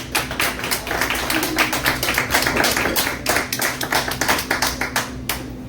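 Sustained applause from a cabaret audience, dense and steady clapping filling the room for several seconds before thinning out at the end, with a low hum underneath and no talk.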